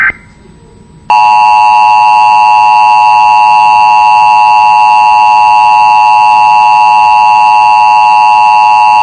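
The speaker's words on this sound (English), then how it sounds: "And we're sending alert tones now." Emergency Alert System attention tones are sent after a data header, a loud continuous two-tone electronic blare that starts abruptly after a short burst and holds steady for several seconds.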